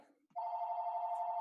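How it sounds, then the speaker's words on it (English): A phone rings during a remote town council budget meeting. It is a steady electronic tone that starts abruptly and keeps going unbroken for over a second, clear and alone after a brief faint murmur. "Sorry, my phone's ringing."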